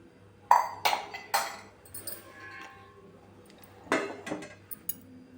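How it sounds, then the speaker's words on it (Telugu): A metal pan is set down for a mushroom masala curry and oil is added with a spoon: several sharp metallic clanks and clinks ring out close by, with quieter scraping and pauses between them. "బాండలు పెట్టుకొని ఈ స్పూన్తో నాలుగు స్పూన్లు ఆయిల్ వేసుకున్నాం"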